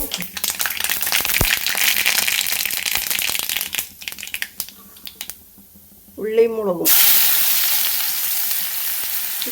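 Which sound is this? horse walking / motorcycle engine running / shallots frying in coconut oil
shallots frying in coconut oil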